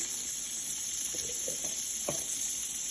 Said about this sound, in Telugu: బెండకాయ ఫ్రైకి ఫస్ట్ పోపు పెట్టేస్తున్నాము